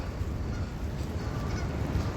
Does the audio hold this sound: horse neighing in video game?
no